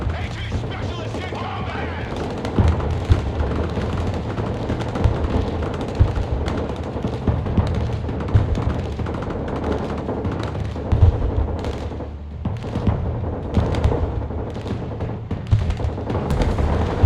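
Mortar and artillery fire in the war video game Broken Arrow, with repeated booming impacts and crackling gunfire blending into a dense, continuous battle din, with radio voices talking over it.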